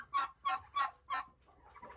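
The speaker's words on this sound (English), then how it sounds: "It's chaos today with the chickens." A farm chicken gives four evenly spaced loud clucks in quick rhythm, close by, followed by softer muttering clucks as the sequence trails off.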